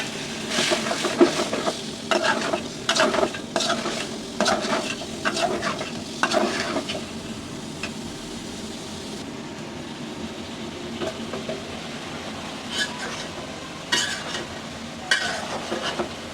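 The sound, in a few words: ridge gourd and stems frying in spiced masala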